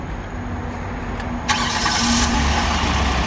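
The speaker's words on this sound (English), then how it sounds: "Go ahead, hop into the vehicle and start it up" A 2017 Hyundai Santa Fe's engine cranks and catches partway through, a sudden broadband burst that settles into a steady, fairly loud idle over the constant low rumble of the running setting.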